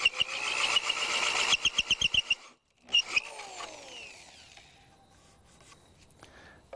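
A power tenon cutter jig bites into rustic wood stock in a rapid series of rough, rasping cuts, pauses briefly, then resumes with a spinning-down whine and scattered scraping as the cutter slows.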